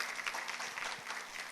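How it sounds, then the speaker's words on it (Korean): A church congregation applauds during a Sunday sermon, a short burst of dense, even clapping from many hands heard from a moderate distance, without speech over it. "감사합니다 하고 박수로 표현해 보시죠."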